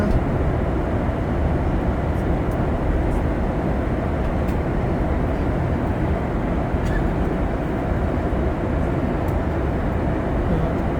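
A steady, loud roar of jet engines and rushing air fills the cabin of a flydubai airliner in flight, unbroken for the whole stretch with faint clicks above it and no talking.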